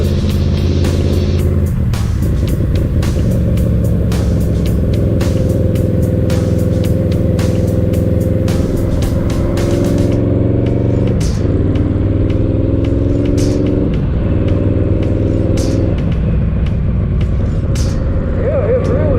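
A Yamaha V-Max motorcycle engine runs loud and close, its drone rising and dropping as the rider eases along and shifts up through the gears, with some clatter and wind noise.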